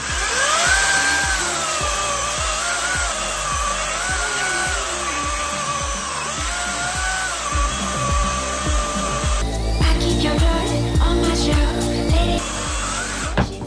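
Cordless ProCraft PKA 33 battery chainsaw cutting through a dry, hard wild pear log, its steady high motor whine running continuously under load with rough chain rasping, growing harsher near the end.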